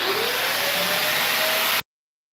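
Coffee grinder grinding coffee beans, a loud, steady whirring drone that stops abruptly after nearly two seconds.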